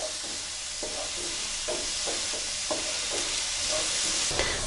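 Chopped onions and shallots sautéing in oil for a Kerala chicken roast, a steady sizzle with a series of close, light scraping stirs spread through the moment, no one talking.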